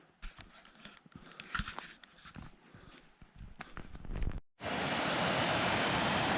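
Footsteps crunch along a forest trail on the Maple Valley Trail, then a small waterfall beside the path takes over as a loud, steady, close rushing hiss of falling water.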